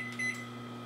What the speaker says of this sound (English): I gotta put the damn thing back in the microwave.